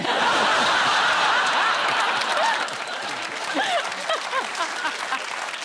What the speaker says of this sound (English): You're applauding this poor bloke.